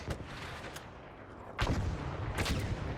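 Gunfire aimed at a turret during a firefight in the video game ARC Raiders, with a few sharp shots early on and louder bursts of fire later, set against a steady background of combat noise.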